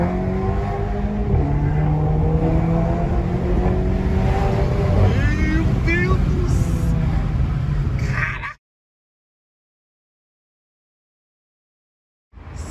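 A Volkswagen Golf MK7 GTI Stage 2 engine revs and roars loudly for several seconds, pitch rising and falling with throttle, then cuts to silence before briefly returning.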